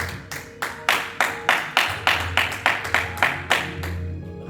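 A church congregation claps in unison to acclaim the Lord, about a dozen sharp, evenly spaced claps in a steady rhythm, fairly close and loud, with a low hum underneath.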